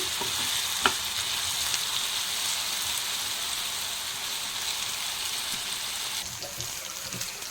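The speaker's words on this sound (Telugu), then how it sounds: "వీటిని మంచిగా ఫ్రై చేసుకోవాలి మంచిగా రోస్ట్ అయిన తర్వాత ఆకు వేసుకోవాలి" Raw banana pieces frying in a pan over a high flame give a steady, close sizzle that runs unbroken throughout, with a faint stir or clink near the start.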